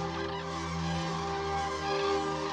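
A huge flock of cranes gathers at ponds in the Barycz Valley at dusk, and their overlapping trumpeting and honking calls form a continuous loud chorus with no voices.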